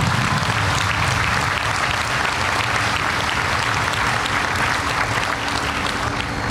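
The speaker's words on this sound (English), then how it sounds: "Give them a round of applause." An audience applauds at the commissioning ceremony for O'Hare Runway 10C-28C, sustained steady clapping from a large crowd, loud and even for several seconds with no one speaking.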